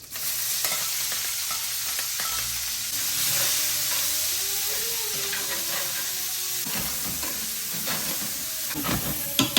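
Julienned sweet pepper, onion and garlic hit a hot pan for pina colada chicken. A loud, steady sizzle follows, punctuated by repeated stirring scrapes and clatter near the end, with no talking.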